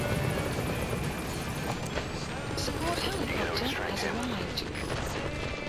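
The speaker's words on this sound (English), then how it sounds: "Is there a way to tell the chopper to just fucking go?" A helicopter in the video game Metal Gear Solid 5 thrums and whirs continuously up close, with game music and effects layered over the rotor noise.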